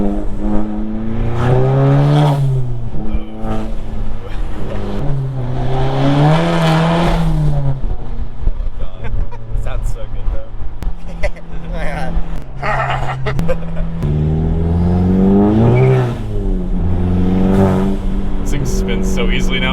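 A modified VW Golf MK7 accelerates hard with its wheels spinning, engine revving loudly up and down in repeated surges heard from inside the car, while people talk over the noise throughout.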